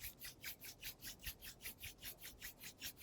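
Palms rubbed briskly together during a home yoga session, a steady rhythmic rasping swish of skin on skin repeating about five times a second, close and clear with no talk.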